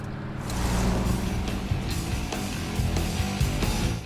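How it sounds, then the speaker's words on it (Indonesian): A 1971 Chevrolet Chevelle drives in a film, its deep engine roar and road noise steady and loud, with faint thuds and movement sounds mixed in. "Milton pergi menuju Stillwater bersama Piper dengan mengendarai Chevrolet Chevelle tahun 71"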